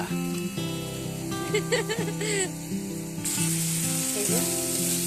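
Spice paste fries and is stirred in a pan, a steady close sizzle that grows brighter and louder partway through, with a sustained tonal hum and brief voice-like sounds in the background.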